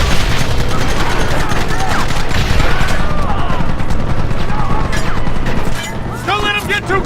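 Rapid gunfire volleys crackle continuously through a Red Dead Redemption shootout, with shouted voices and battle chatter mixed into the dense, loud din before it thins slightly near the end.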